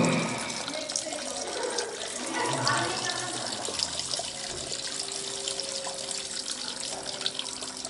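A man urinating outdoors, a steady liquid stream with continuous splashing and trickling at close range, running throughout with no talk.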